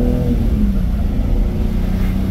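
A car engine revving on a street, a loud steady low rumble with throaty mid tones, heard up close and continuous for the whole stretch without talk.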